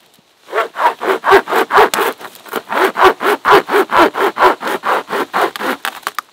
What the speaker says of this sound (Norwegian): Det her Pocket Saw fra Falkeberg. Og det egentlig et motorsag som du bruker med hendene.